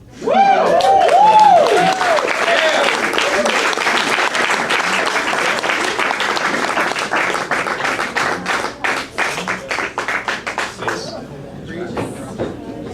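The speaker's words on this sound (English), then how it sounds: "Clap it up for him." Open-mic crowd at The Brew House Gallery erupts in loud applause with whoops and cheers for a performer, the clapping thinning into scattered individual claps toward the end while a voice speaks over it.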